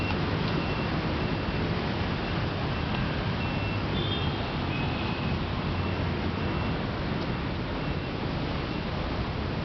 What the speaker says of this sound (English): There's a lot of traffic this morning, a lot of noise.